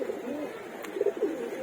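A pair of young pigeon chicks held in a loft coo softly and closely, a few low throaty coos rising and falling in a gentle rhythm with no talking.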